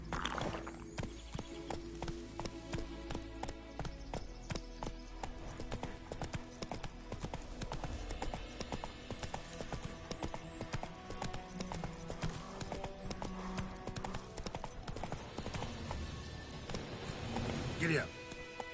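Roach the horse from The Witcher 3 video game gallops with continuous, rapid hoofbeats up close, joined by a brief whinny near the end, over a steady bed of game music and ambience.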